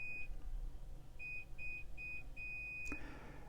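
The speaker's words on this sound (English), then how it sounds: "Sorry if you can hear my dryer beeping here." A clothes dryer beeps: a string of high electronic beeps, one short then several longer ones in an irregular pattern, over a quiet background with a brief thump near the end.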